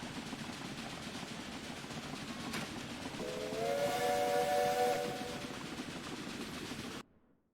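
In the Railway Empire game, a train rumbles along the rails, then a loud steam-style whistle blows for about two seconds over the steady running noise before the sound cuts off abruptly.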